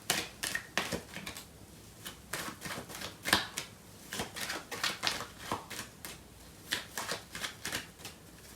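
Tarot cards are riffled and shuffled in quick, crisp bursts of papery flutter, close and clear, with irregular pauses between rounds and no speech.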